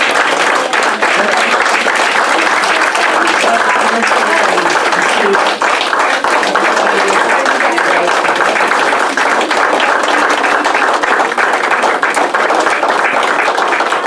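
A large audience at a school gathering applauds loudly and continuously, dense sustained clapping that stays at full strength from start to end.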